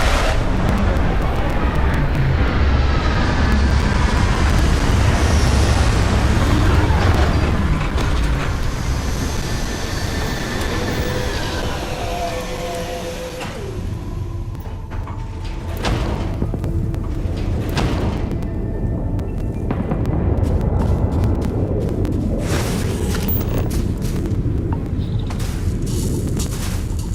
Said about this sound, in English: Landing site is clear. Let's head down.